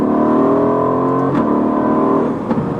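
Aston Martin Vantage with a 4-liter bi-turbo engine revs up loudly and holds a strong, tonal engine note before dropping off toward the end, heard close with no talking.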